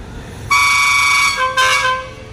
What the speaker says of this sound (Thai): อันนี้ก็ชักวีดให้สัญญาณออกจากสถานีชุมทางบางซื่อแล้วนะครับ